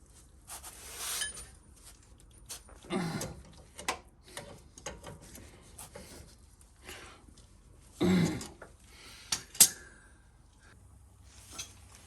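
Ratchet tightening a bolt on the front end of a 2005 Chevrolet Trailblazer 4x4 during a hub rebuild, with short bursts of clicking separated by pauses and a few sharper metallic clanks, close by.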